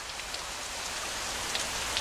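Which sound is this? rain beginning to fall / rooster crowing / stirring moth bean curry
rain beginning to fall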